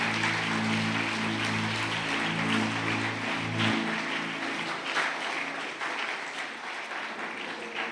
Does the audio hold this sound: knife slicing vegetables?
no